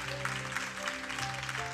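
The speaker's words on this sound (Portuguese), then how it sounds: "exalte a Ele com as palmas bem alegre" A church congregation claps joyfully while music plays, a steady patter of hands over sustained organ-like tones, fairly quiet and brief.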